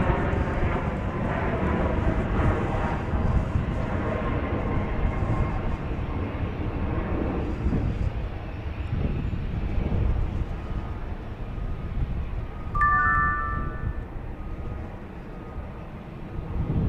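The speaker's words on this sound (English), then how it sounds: "So we've got a JSX about to blast off here." JSX Embraer 145 jet taking off at Dallas Love Field, a sustained loud engine roar with wind buffeting the microphone, rumbling steadily before easing slightly, a brief tonal chirp near the end.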